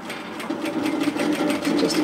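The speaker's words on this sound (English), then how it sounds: "I'm going to stitch down." A sewing machine runs steadily, stitching down a seam on an apron dress with a fast, even mechanical whir and rapid needle clatter, close and alone.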